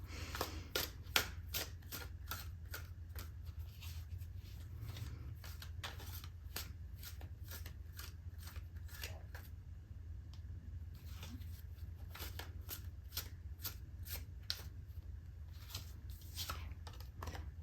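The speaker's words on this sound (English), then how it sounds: "You want me to shuffle again?" Soft, repeated riffling of a tarot deck being shuffled, short crisp bursts in an irregular rhythm over a low steady hum, close and fairly quiet.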